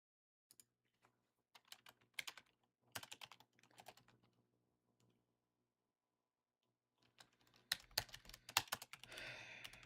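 Numbers being typed on a computer keyboard, with quiet, close keystrokes in scattered bursts, a long pause in the middle, then a denser flurry of clicks at the end.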